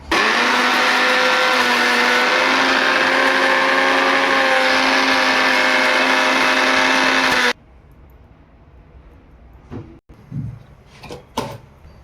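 A kitchen mixer grinds roasted onion, garlic, dried coconut, ginger, coriander and tomato with a loud, steady whirring motor for about seven seconds, then cuts off abruptly, followed by quiet clatter and handling sounds.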